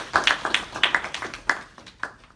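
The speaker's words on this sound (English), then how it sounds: "give Diamond and Carly a big round of applause" A small group in a Knox College educational philosophy class claps in sparse, uneven bursts, individual hand claps standing out close by before trailing off.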